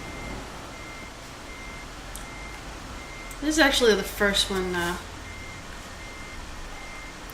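Steady truck reversing beeps in Euro Truck Simulator 2, soft and electronic, chime at a regular pace over a low engine hum, and a voice talks briefly in the middle.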